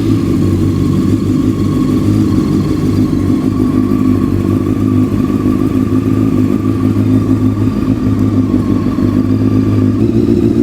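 A Honda CBR600 F4i motorcycle engine idles after a cold start, a loud, steady, close low rumble with a constant high idle that holds without pause and has no talk over it.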